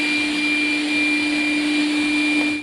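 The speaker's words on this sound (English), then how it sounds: "Yeah, this robot is really loud, even with the suction power being average." Xiaomi Mi Robot Vacuum Mop 1C running at max suction, giving a loud, steady whirring roar with a constant high whine throughout, close up and alone.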